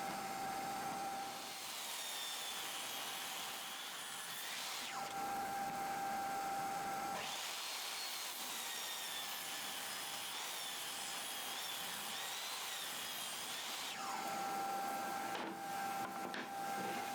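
A table saw rips 2x4 boards in half with a loud, steady whine. It grows harsher in several long passes as the blade bites into the wood, then eases back between cuts.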